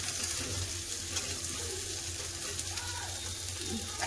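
Potatoes, capsicum and ridge gourd sizzle in a pan with fish oil and onions, a steady, quiet frying hiss that runs evenly throughout with no talk.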